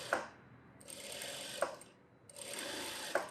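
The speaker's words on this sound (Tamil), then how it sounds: "இப்போ இது மேலே இன்னொரு தையல் போடுறேன்" A sewing machine stitching a blouse in bursts: three whirring runs separated by brief pauses, each marked by a sharp mechanical clack, close and fairly quiet, with no talk.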